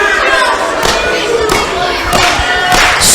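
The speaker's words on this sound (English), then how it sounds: "Drop kick, pile driver. A lethal move, outlawed in many parts of this industry." Wrestling ring impacts from a drop kick and pile driver in a 1PW tag team match: several heavy thuds at roughly regular intervals over steady crowd noise, with the last impact loudest.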